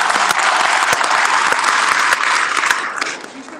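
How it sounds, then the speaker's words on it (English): Loud audience applause rings out for a woman introduced on stage as a power-washing business owner from San Antonio, Texas, a dense roar of clapping with sharp individual claps that thins and fades toward the end. "Guys, give her a big round of applause."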